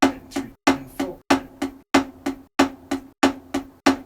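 A drum pattern of quiet right-hand taps under louder offbeat left-hand full-stroke accents, played alone in an even, repeating rhythm of close, sharp hits.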